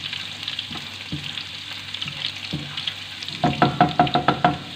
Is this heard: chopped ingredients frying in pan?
yes